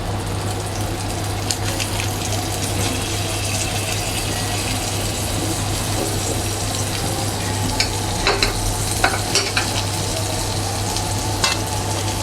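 Butter melting and sizzling in a hot pan for pav bhaji, a steady close frying hiss with small crackles and pops throughout.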